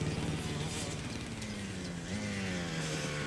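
A computer-controlled experimental lawn mower runs steadily in a suburban yard, its engine drone continuous and close with a slight pitch shift, voices faintly underneath.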